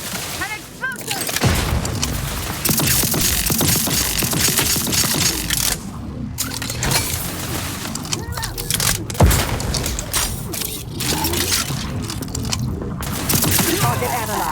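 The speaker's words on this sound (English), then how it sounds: "An explosion!" An explosion goes off during a firefight in the video game The Outer Worlds 2, amid dense booms, gunfire bursts and game voices, with loud, continuous combat noise throughout.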